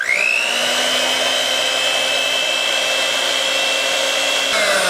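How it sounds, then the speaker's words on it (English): An electric mixer whips low-fat milk on high speed, giving a loud steady motor whine with no talk over it. The pitch rises as it starts and dips slightly at the end. "Now you're going to whisk these for 2 minutes on high, and I'm going to use it with the electric mixer."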